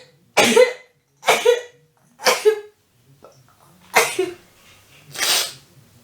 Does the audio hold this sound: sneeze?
yes